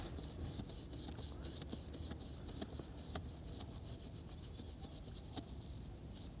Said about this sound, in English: Let's take our brush and just give it a good up and down motion.